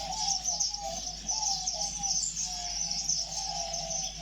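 Many birds call together in an Iraqi bird reserve, a dense continuous chorus of high chirps over a lower warbling line and soft coos, steady and moderately distant with no voices.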